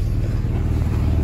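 A car engine with a burst exhaust manifold runs steadily at an industrial repair district, a continuous low rumble holding even for the whole moment with no talk.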